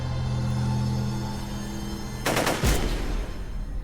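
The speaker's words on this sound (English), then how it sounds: "Gunshots." A short, rapid burst of gunfire cracks out once over a constant low hum, then a deep boom fades away.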